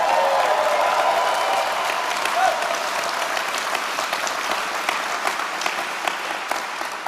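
A gala audience applauds and cheers for an award winner, a loud, sustained wash of clapping that carries on for several seconds and slowly thins, with scattered voices in the crowd.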